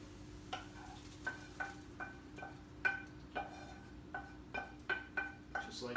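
Lightly browned onions and very brown garlic going into a sauce give a faint sizzle under a quiet hum, with soft, regular scraping taps of a spoon, about two per second.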